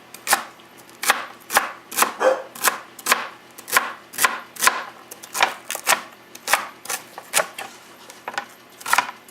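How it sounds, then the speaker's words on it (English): Steady knife chopping of turkey stock on a cutting board, about twenty crisp, evenly spaced chops close by with no talking. "I take my whole stock and I just cut it up into little pieces."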